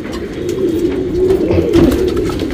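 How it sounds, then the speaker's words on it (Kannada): Older champion male racing pigeons in a loft coo together in a dense, close, continuous low murmur of overlapping calls, with no voices. "ಮೇನ್ ದೊಡ್ಡ ಹಕ್ಕಿಗಳು"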